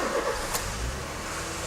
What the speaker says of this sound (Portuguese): como o carro fica acelerado quando a gente faz a limpeza da TBI e não reseta